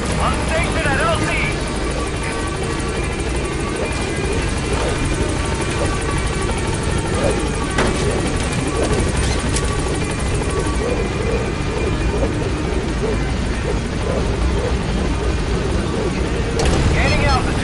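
Helicopter in Metal Gear Solid V, the Pequod, approaching a landing zone: a steady, loud rotor and engine drone that fills the whole stretch, with radio-style voices over it.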